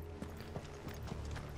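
Horse hooves clip-clop at a quick, steady gallop in Final Fantasy XVI, close and fairly loud with a low rumble underneath.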